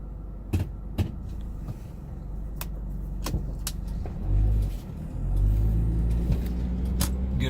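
A car drives along a road during a storm near Trotwood and Dayton. The engine rumble is steady and low, with a few sharp knocks and a swell as it speeds up midway, close and continuous.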